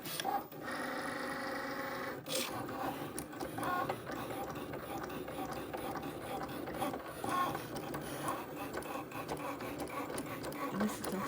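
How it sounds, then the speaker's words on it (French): A Cricut cutting machine slicing paper, its carriage whirring and ratcheting back and forth in busy mechanical bursts, close and steady for several seconds with no voices. "Et là, c'est en train de couper."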